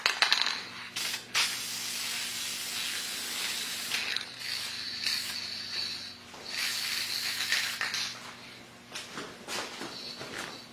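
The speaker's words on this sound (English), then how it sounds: "We're just going to hit it with a little bit of lacquer." Lacquer hisses from a spray can onto a small turned pendant made of bread in a series of short bursts with brief gaps, each close and fairly loud.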